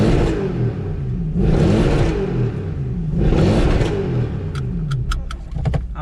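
Car with new Michelin tyres driving on the road, engine pulling through repeated gear changes with rising revs and steady tyre and wind noise, a few clicks near the end.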